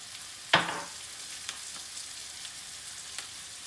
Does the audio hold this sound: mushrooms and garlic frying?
yes